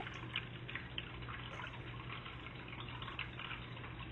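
Water sloshes and trickles steadily as someone wades through a shallow stream in a tunnel at a wildflower preserve, with faint splashing and drips over a continuous low wash.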